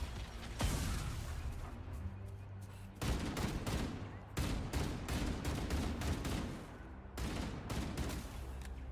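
Rapid bursts of gunfire while shooting at a Jackal in Halo: Campaign Evolved, sharp repeated shots in clusters separated by short pauses, close and loud, with faint mechanical clatter between.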